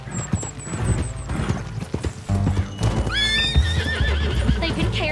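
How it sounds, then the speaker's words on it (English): Horses set off with riders, hooves clip-clopping in a quick uneven rhythm, and a loud whinny rises partway through over a musical score, fairly close and prominent. "Get on your horse."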